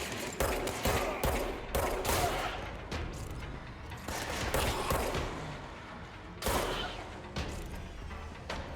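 Rapid gunfire from a shooter game set in an office building, bursts of shots crackling through a window with broad, loud bangs repeating across the stretch, some stronger hits near the middle and late on.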